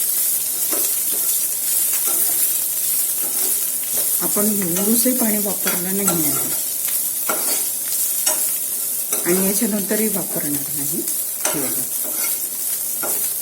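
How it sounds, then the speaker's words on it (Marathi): Bitter gourd (karela) pieces fry in hot oil for a crispy karela dish, giving a steady, loud sizzle throughout with occasional stirring scrapes, while someone talks over it twice. "कारले टाकून घेऊया आता कारल्याला व्यवस्थित फ्राय करायचे"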